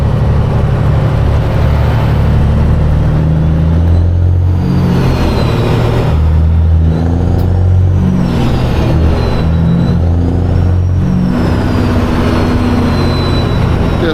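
A semi-truck engine drones loudly while driving through heavy rain, a steady low rumble with shifting pitch and road hiss, and no talking.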